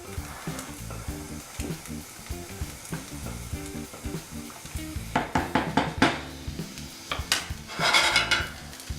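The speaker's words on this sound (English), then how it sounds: "Give that another stir." Shallots sizzle steadily in a pan of oil for a chilli and prawn linguine, with a run of sharp scraping stir strokes near the end and a louder burst of hissing at the close.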